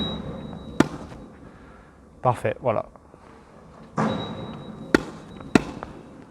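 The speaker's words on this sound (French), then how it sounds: "je vais taper mes volées." Tennis volleys struck against balls fed by a Pongbot Pace S Pro ball machine: sharp isolated racket pops spaced a second or so apart, with a brief rattle of impacts in between and someone speaking French quietly.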